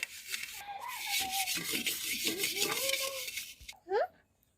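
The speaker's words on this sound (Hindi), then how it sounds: "अब इसको हम लाइव आप लोग को दिखाते हैं धो करके" A burnt cooking pot is scrubbed with Harpic toilet cleaner in rhythmic, gritty rubbing strokes, close to the microphone, ending with a brief metallic clink; a voice is heard faintly under the scrubbing.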